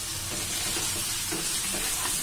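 Mutton sizzles steadily in a hot pan as ground coriander, cumin, chili, black pepper, turmeric and salt are stirred in, a dense continuous frying hiss close up.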